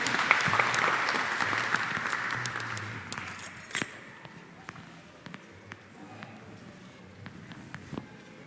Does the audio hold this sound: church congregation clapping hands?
yes